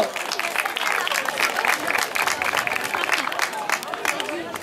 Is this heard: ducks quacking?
no